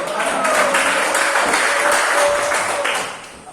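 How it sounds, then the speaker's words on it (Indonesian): A classroom audience gives a round of applause after a student music ensemble performance, a steady wash of clapping that holds for about three seconds, then fades, with some voices mixed in. "Tepuk tangan dulu"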